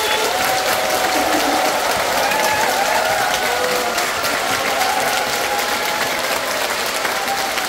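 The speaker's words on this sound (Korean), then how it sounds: "이제 황창현 신부님을 여러분들의 뜨거운 박수와 환호로 환영해 주십시오." An audience in a large concert-hall theater gives sustained, dense applause with cheering to welcome a priest onto the stage for a talk concert, loud and continuous throughout.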